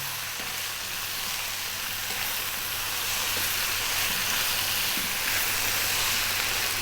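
Fresh chili sizzling in hot oil in a pan for a vegan spinach potato curry, a steady, loud frying hiss with faint stirring taps underneath.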